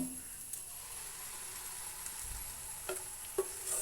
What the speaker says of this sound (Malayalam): മാവ് ഒഴിച്ച് കൊടുക്കാൻ പോവാണ്